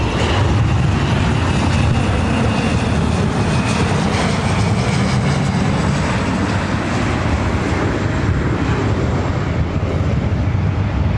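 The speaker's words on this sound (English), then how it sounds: "This is our fourth or fifth 767 heading to JFK." A Delta Boeing 767 jet heading to JFK roars loudly and steadily at Los Angeles airport, a deep continuous engine rumble with no break throughout.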